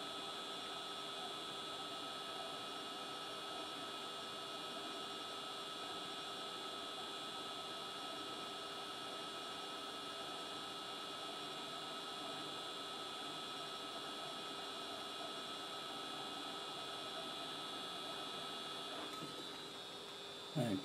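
Hot air rework station blowing heat onto an LG 42LH3000 TV t-con board under repair: a steady, even airflow hiss with a faint constant hum, unchanging for about twenty seconds before a brief clatter at the end.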